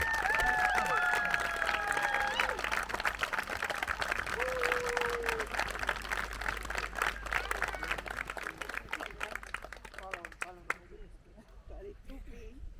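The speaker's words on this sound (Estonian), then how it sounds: "suur aplaus" At a thank-you gathering for the organisers of a children's and youth folk music camp, a room of people applauds and cheers, with some voices and whistles mixed in before the clapping thins out and fades.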